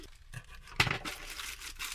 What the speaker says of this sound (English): I've cut open the package.